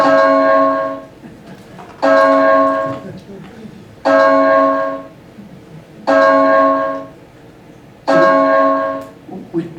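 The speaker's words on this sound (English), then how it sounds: "to make a recording of kind of what that bell actually sounds like" The bell of Westborough Congregational Church rings five strong single strikes about two seconds apart. Each rich, ringing tone decays before the next.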